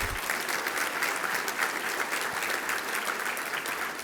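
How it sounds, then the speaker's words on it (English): Steady, dense applause fills a large event hall as an audience cheers a new 155,000 square foot production facility in Earth City, continuous and fairly loud from start to finish. "yes, a round of applause for that."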